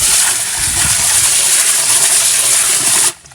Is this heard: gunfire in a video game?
no